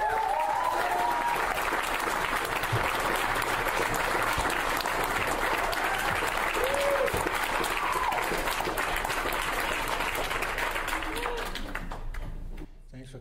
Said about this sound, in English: Let's give a round of applause, Al Hunter.